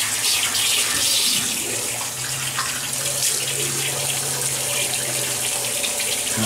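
A bathroom tap runs steadily while someone washes off their face, the water gushing close and loud in a continuous, even stream with slight splashing variations throughout.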